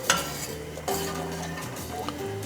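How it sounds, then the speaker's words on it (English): About a pound of pasta is stirred in a pot of salted boiling water, with a clinking scrape against the pot, soft bubbling underneath, and a second stirring push about a second in. "So let's just get all our noodles in. Got about 1 pound of pasta. Just give it a stir."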